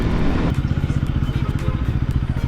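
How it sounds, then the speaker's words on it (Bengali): A motorcycle runs on a hill road in the Darjeeling and Sikkim hills, its engine thumping in a fast, regular pulse close by, steady and fairly loud. "প্রথম আমার বাইক নিয়ে"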